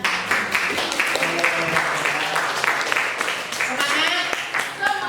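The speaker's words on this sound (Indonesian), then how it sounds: "Sebelumnya kita kasih aplaus dulu untuk semuanya" An audience applauds everyone during a question-and-answer session at a teachers' module presentation, a steady burst of clapping lasting a few seconds with voices talking over it.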